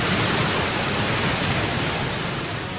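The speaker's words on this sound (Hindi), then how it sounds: "पानी के इस उफनते गरजते दानव में हजारों घोड़ों की शक्ति होती है।" A tidal bore wave surging up the Qiantang River, a dense steady roar of rushing water filling the whole scene, loud and unbroken with no voices.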